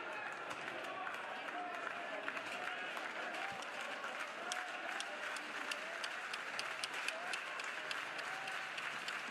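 Stadium crowd at a college baseball game between Oklahoma and Vanderbilt, a steady distant roar of cheering and clapping that holds at an even level throughout, with scattered sharper claps and broadcast commentary voices murmuring underneath.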